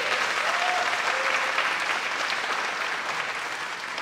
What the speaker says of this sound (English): I cut off the applause for Paul